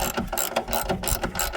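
Ratchet wrench snugging a bolt on a snowblower during a belt replacement, rapid close clicking in quick bursts, loud and alone.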